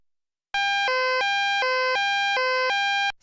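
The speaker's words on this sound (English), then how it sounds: "Setting alarm." A home security alarm system being armed gives a loud, clear electronic beeping tone that alternates between two pitches in steady on-off pulses for about two and a half seconds, heard alone.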